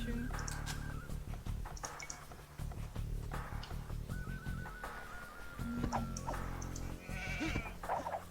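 Sheep bleat in the Age of Empires II strategy game, several short bleats scattered amid game clicks and effects, with a player talking over the sounds.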